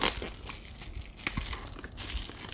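Packaging for Kefine Klanar planar earphones being opened, continuous crinkling and tearing of wrapping with a few sharper crackles, close and moderately loud with no speech.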